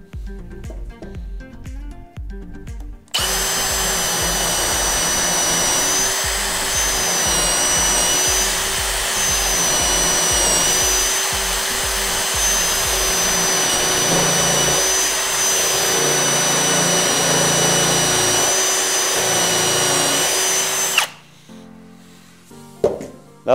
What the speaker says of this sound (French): Et maintenant, suffit de percer.